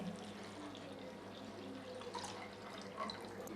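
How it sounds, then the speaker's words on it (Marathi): Plain water poured into a cooking pot to knead boiled dough for traditional Nag Panchami mugori; a faint, steady trickle and splash runs quietly throughout with no talk. "या टोपामध्ये ना मळण्यासाठी पाणी घेऊया"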